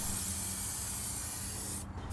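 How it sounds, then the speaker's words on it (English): Aerosol spray can laying metallic silver base coat onto a car door panel during a DIY dent repair, a steady close hiss running nearly two seconds before cutting off abruptly. "When spraying base coat with a paint can, it's best to start spraying off the panel"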